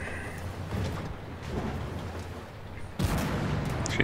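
A T-54 tank cannon fires in a tank battle game, a deep booming report under a low rumbling background, with a sharp loud blast near the end.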